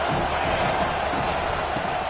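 A stadium crowd roars in the American football video game Madden/NCAA 25 on a big third down, a steady broad cheer with faint whoops, alone and fairly loud.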